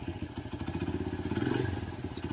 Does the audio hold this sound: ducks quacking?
no